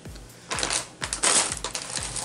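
Scissors cutting out a paper craft piece for a handmade journal, giving four quick snipping crunches in an even rhythm, close and fairly quiet.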